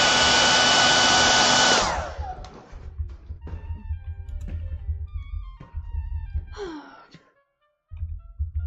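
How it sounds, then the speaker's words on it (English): A hairdryer blows loudly and steadily on a small acrylic painting of a pumpkin for about two seconds, then shuts off, leaving scattered quiet clicks and handling sounds from the painting table. "Get my hairdryer out right quick."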